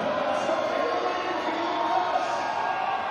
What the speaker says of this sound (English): crowd are responding. They want to see this lift go up